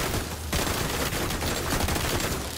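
Gunfire from an enemy striking a deflector shield in The Division 2, with dense, continuous automatic shots crackling steadily at close range and no talk.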